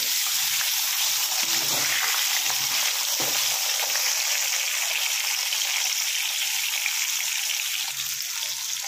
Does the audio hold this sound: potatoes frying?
yes